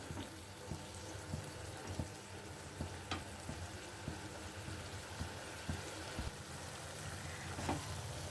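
Paneer and curd simmer in a pan, giving a soft, steady sizzle and bubbling with faint stirring clicks, with no voices.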